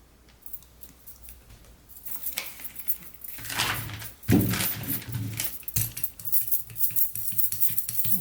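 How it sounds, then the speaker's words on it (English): Iridescent pearl medium being mixed into teal paint directly on a gel printing plate, heard as close, irregular scraping, tapping and clattering strokes that grow busier and louder partway through, with no talking. "Mix it right on your gel plate with the paint."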